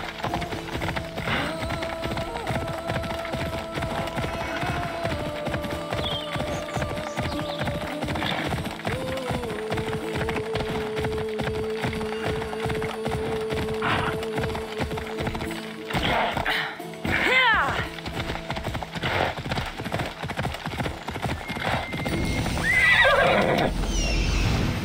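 A horse gallops with rapid rhythmic hoofbeats and neighs in the Assassin's Creed Odyssey video game near a military camp, with a steady game soundscape underneath.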